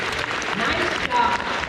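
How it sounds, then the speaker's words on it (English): A crowd at an elementary school awards ceremony for grades 3-5 claps for student honorees. The short burst of dense applause has voices mixed in. "Let's give them a round of applause."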